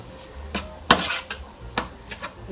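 Minced garlic is stirred in a soup pot for ground beef and macaroni tomato soup, with a utensil clinking and scraping against the metal in several sharp strikes over a faint sizzle, and no talking.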